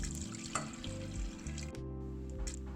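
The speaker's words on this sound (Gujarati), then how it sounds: "બે ગ્લાસ પાણી એડ કરશું।" Two glasses of water splash and gurgle as they are poured into a pot to boil washed dal, a quiet, uneven stream with a few brief clinks.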